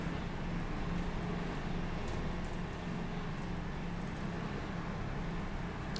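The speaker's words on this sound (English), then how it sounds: "The engine sounds a lot more knackered on this spec, though. Maybe it is actually meant to be like it's got a hole in the exhaust." Bus engine with a holed exhaust in OMSI 2, Go North East spec, giving a steady, knackered low rumbling drone that stays fairly quiet and unchanging throughout, with no talking.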